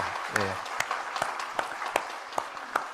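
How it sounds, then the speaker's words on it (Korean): Brief welcoming applause from a church congregation during a Sunday service, a dense patter of clapping hands joined by a voice speaking over it. "자, 우리 환영의 박수 하겠습니다."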